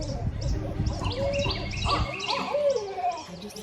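Two barred owls call back and forth outdoors, wavering and gargling hoots rising and falling against a rustling background, moderately distant, with no talking over them.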